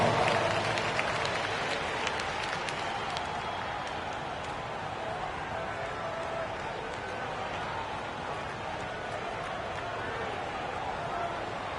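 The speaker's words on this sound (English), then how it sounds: "Give yourself a big round of applause" Crowd at a Kings at Lakers basketball game applauds steadily in a large arena. A dense, even wash of clapping and crowd noise holds for several seconds, loud at first and easing slightly.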